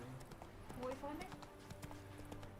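Horse hooves clip-clopping while riding in the video game The Witcher 3, a quiet rhythmic trot of hoofbeats with some faint tonal game sounds over it.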